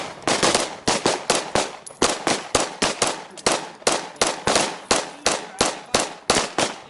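Pistol shots at an indoor shooting range fire in a fast, steady string of about twenty loud, sharp cracks over seven seconds, each with a short decaying tail and nearly even spacing.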